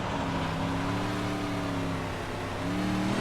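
A sprint car engine on throttle around the Williams Grove Speedway dirt oval, a loud, steady high-pitched drone with rising and falling harmonics as the driver rolls back onto the power, heard close and unbroken.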